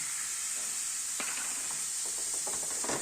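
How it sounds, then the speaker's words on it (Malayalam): Semolina roasts in a hot pan with a steady, bright sizzling hiss, with occasional scraping taps of stirring over the continuous frying noise. "ഇനി റവ ഒന്ന് ചെറുതായിട്ടൊന്ന് വറുത്ത് വരട്ടെ"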